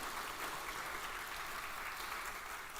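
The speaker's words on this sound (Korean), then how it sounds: "우리 박수로 환영하겠습니다." Steady applause from a church congregation welcoming visitors during a Sunday intergenerational worship service, a dense, even wash of clapping held at a moderate level throughout.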